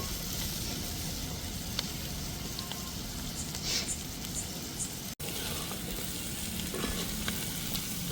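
Chicken pieces roast in masala in a pan for chicken fry piece biryani, a continuous close sizzle with scattered stirring scrapes and one brief cut to near-silence partway through.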